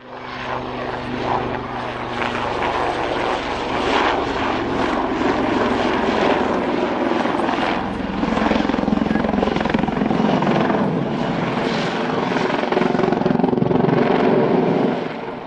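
A Royal Navy Westland Lynx helicopter flies at the Dunsfold airshow, its loud rotor thump and turbine roar sustained and shifting in pitch as it manoeuvres nearby.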